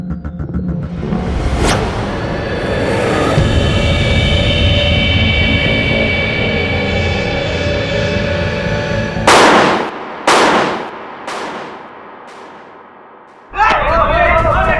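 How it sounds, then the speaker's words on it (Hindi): Firecrackers burst in a TV crime drama scene, several sharp loud bangs coming in quick succession late in the clip after a long stretch of droning background sound. "सुबह सुबह पटाखे फोड़ रहा है।"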